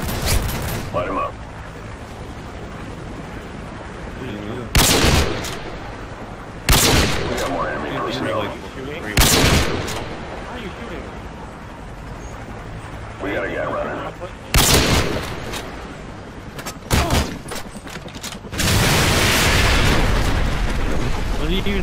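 Gunfire and explosions in a first-person shooter match, loud sharp shots and blasts cracking out at irregular intervals and a sustained burst near the end, over steady game noise with players talking throughout.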